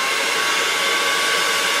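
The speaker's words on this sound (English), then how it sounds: "So first you put air from the hair dryer, well, hot air from the hair dryer into the balloon" A hair dryer blows hot air into a plastic dry-cleaner bag, a steady, close whooshing hum that holds constant with no variation or voices.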